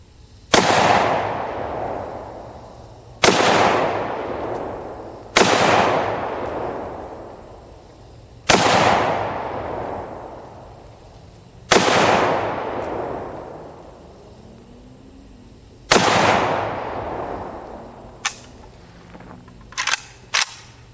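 Gunfire from M&P9 and M&P PRO pistols, a Remington M12 and a TDC AK47u at an outdoor range: seven loud, sharp single shots spaced a few seconds apart, each trailing off in a long echo, followed by a few faint clicks.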